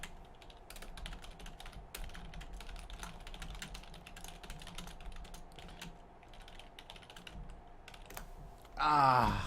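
Typing on a computer keyboard gives a quiet, continuous patter of quick key clicks with small pauses, then a brief burst of voice right at the end.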